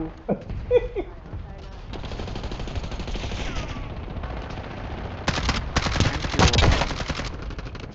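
Gunfire in the video game Warzone, with rapid automatic bursts crackling over continuous game noise, loudest in the second half, while someone talks intermittently.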